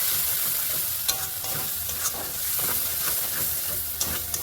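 Onion and garlic spice paste fries in hot oil with a steady, close sizzle and hiss, broken by a few sharp stirring scrapes and clicks; no one speaks.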